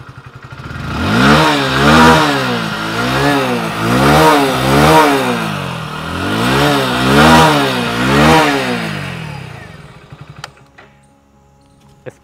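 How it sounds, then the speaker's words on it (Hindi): A Hero HF Deluxe 100cc motorcycle idles and is revved repeatedly, its engine and exhaust rising and falling in rhythmic surges close by, then cutting off into quiet with a few clicks. "अब बाइक को स्टार्ट करते हैं, इंजन साउंड सुन लेते हैं, एग्जॉस्ट नोट सुन लेते हैं।"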